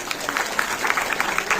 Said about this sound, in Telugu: వాళ్ళందరికీ కూడా ఒకసారి గట్టిగా చప్పట్లు